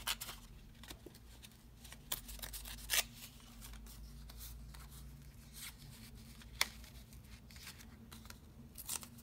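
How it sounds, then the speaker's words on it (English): Paper is torn into pieces by hand for decorating craft envelopes: scattered, sharp rips and crinkles, close and fairly quiet, spread unevenly across the stretch. "Let's tear some of that up."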